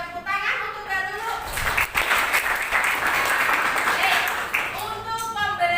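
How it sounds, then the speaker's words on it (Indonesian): Classroom applause for Mbak Lulu during an economics lesson, a steady wash of clapping through the middle with children's voices and speech at the edges. "Kita berikan tepuk tangan untuk Mbak Lulu."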